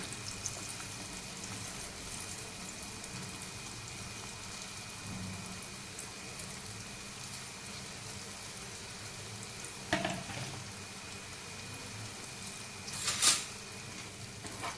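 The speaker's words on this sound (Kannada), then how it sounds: "ನೋಡ್ತಿರ್ಬೋದು ಪನ್ನೀರು ಎಷ್ಟು ಚೆನ್ನಾಗಿ ರೋಸ್ಟ್ ಆಗ್ತಾ ಇದೆ ಎರಡು ಸೈಡು" Paneer cubes roast in a pan with a soft, steady sizzle and faint crackle, quiet and even throughout, with a couple of brief louder clatters near the end.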